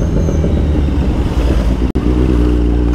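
A motorcycle rumbles along a dusty dirt road, its engine droning loud and close with steady low harmonics throughout and a brief dropout near the end.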